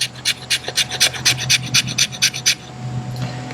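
Condor Low Drag camp and field knife edge scraping wood into feather curls, about a dozen rhythmic rasping strokes in quick succession, close and clear, ending before a short quiet tail.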